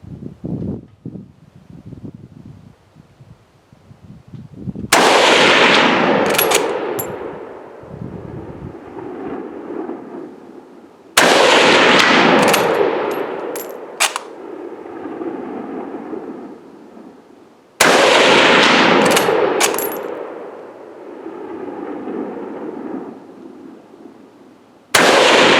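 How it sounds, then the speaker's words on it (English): Four loud rifle shots from a No5 Mk1 Jungle Carbine at a range with steel targets, spaced roughly six seconds apart, each a sharp blast with a rolling echo and faint ringing from the steel. "let's tap it over and shoot some steel"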